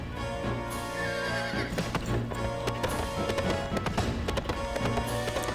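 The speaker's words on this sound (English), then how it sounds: "She got back on her horse and rode lightly down to the main road." A horse in the Suikoden Gaiden video game whinnies loudly while its hooves clip-clop as the rider departs toward the main road, the neigh and hoofbeats blending with steady game music throughout.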